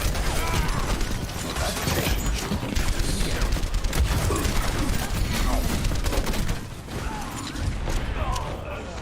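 Rapid, dense gunfire from an Overwatch match rattles almost continuously for the whole stretch, loud and close, with teammates talking over the shooting.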